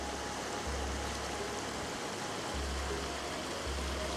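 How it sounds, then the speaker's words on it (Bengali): River water rushing at Shergaon in Arunachal Pradesh, a dense, steady broadband roar of flowing water close by, continuous throughout with a low rumble underneath and no clear voices. "এই জল বয়ে আসছে"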